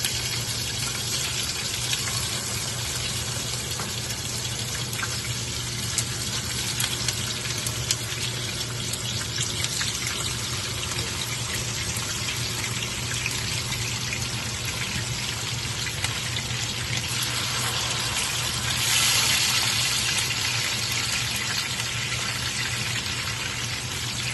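Chicken pieces fry in hot oil over medium heat for a spicy chicken roast, making a steady, unbroken hiss that runs close and even throughout, with no talking.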